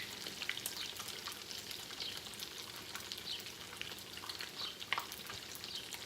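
Lasagna fries in hot grease with a continuous crackling, spitting sizzle that stays fairly quiet and even, with occasional sharper pops.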